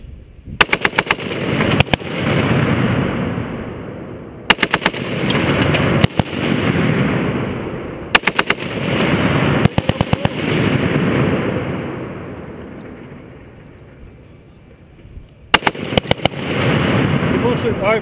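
.50 caliber M2 heavy machine gun fired from a shooting position, loud close bursts of rapid shots repeating in several strings with pauses between, a steady low rumble and faint voices underneath.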